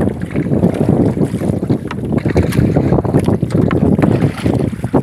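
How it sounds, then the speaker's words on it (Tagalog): Steady, roaring wind buffets a boat out at sea, far from shore near a seaweed farm, with a dense, continuous rush and no talking. "Ito live namin dito guys sa dagat, sa gitna ng karagatan."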